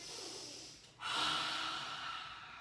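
A single long breath drawn in through the nose during a guided dragon breath exercise, a soft airy rush that steadies and holds for a couple of seconds after a short dip, close and quiet.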